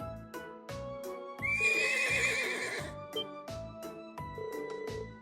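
A young horse in a stable in the video game Trails of Cold Steel, freshly arrived from the North Highlands, gives one loud, shrill whinny in the middle of a rhythmic thudding game soundtrack.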